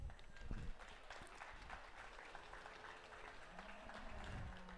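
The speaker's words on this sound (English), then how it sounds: "Give these kids a round of applause." Faint, continuous applause from the crowd at a Bonnyville District 4-H show for the kids exhibiting steers, heard as a soft broadband patter that stays fairly even throughout.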